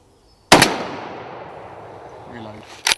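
A single loud, close rifle shot from a Merkel Helix at a roe doe cracks sharply and rolls off into a long decaying echo, followed by a brief mechanical click near the end.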